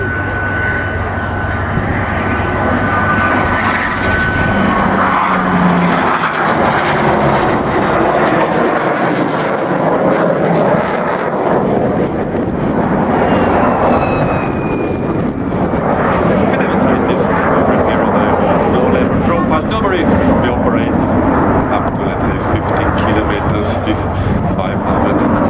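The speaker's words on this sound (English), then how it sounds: "Coming for the overflight, they will turn to the left and doing a teardrop backwards." Eurofighter Typhoon jets and a C-130 aircraft fly over at the 2013 Leuchars airshow, a loud continuous engine roar that rises and shifts in pitch as they pass, with an announcer talking over it.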